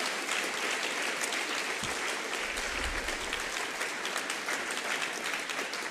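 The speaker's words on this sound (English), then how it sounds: "give a round of applause to yourselves" Steady, dense applause from a large audience at a content festival awards ceremony fills the whole stretch at an even level, with a brief low thump partway through.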